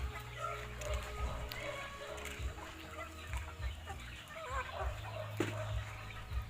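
Chickens are fed at a hut, clucking and murmuring steadily at close range, with soft rustling and an occasional sharper call.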